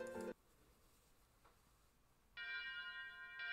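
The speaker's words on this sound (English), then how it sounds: "I know, this is the sound of a funeral bell." Funeral bell strokes ring out as a visual novel sound effect: a brief strike that cuts off, a quiet gap, then another sustained ring and a further stroke, faint and alone.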